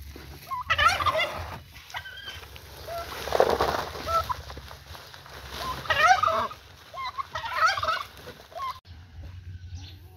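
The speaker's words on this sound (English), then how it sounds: "These are my turkeys." Turkeys gobble in several loud, bursting rounds over a low steady hum, with short pauses between the calls.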